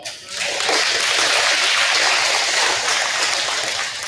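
Sustained applause from an elementary school audience at a 5th grade recognition ceremony, steady and full for several seconds after a brief lead-in.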